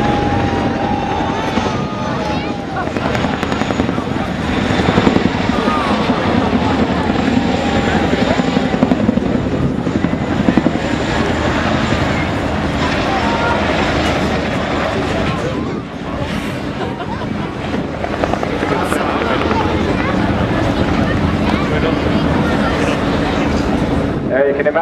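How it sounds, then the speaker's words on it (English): A Chinook tandem-rotor helicopter performs a roller-coaster display at a seaside air show, its loud, continuous rotor thump and turbine roar holding steady throughout, with crowd murmur faintly underneath. "the Chinook changes the lift between its forward and aft rotors to manoeuvre"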